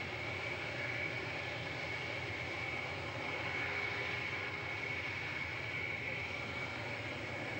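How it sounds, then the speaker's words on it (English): A Concorde supersonic airliner prototype starts its takeoff run with a steady, dense, broadband roar of jet engines, holding an even, sustained level and carrying a faint whine, with no pauses or voices. "By March 1969, Concorde was cleared for takeoff at last."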